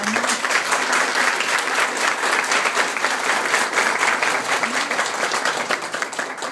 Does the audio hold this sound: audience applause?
yes